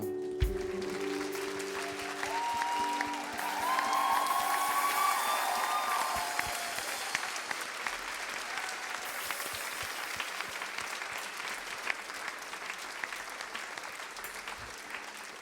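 A church congregation at an evening youth worship service breaks into sustained applause and cheering, a dense wash of clapping with a few shouts and whistles, steady throughout and fairly loud.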